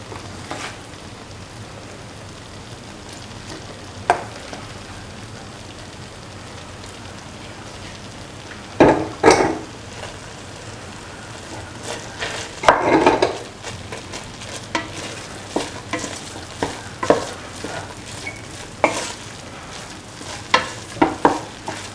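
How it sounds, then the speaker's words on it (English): Rice with cooked mung beans, carrot and salt being mixed in a frying pan over a low flame: a soft, continuous sizzle broken by irregular scraping and clinking from the stirring spoon, growing busier toward the end, with no talking. "Now salt and slowly mix in the rice little by little."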